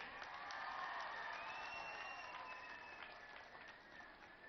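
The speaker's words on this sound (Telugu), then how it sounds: "గట్టిగా చప్పట్ల కూడా చెప్పాలి." Audience applause at a public meeting on DWCRA loan waivers in Srikakulam, a soft, distant and sustained wash of clapping from a large crowd with no talk over it.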